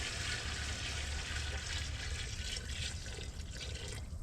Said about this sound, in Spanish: Le ponemos, lleva mucha agua, hasta que cubra.